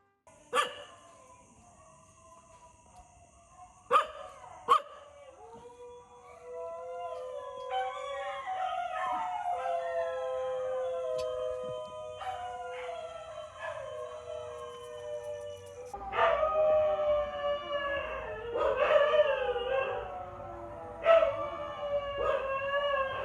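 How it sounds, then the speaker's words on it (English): Stray dogs in a city in Siem Reap, Cambodia, howl and bark together in a loud chorus, with sharp barks at the start and long overlapping wavering howls rising and falling over the following seconds. "the homeless dogs decided to perform a concert for everyone, just like every day"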